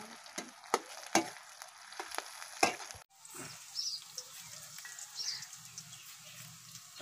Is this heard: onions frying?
yes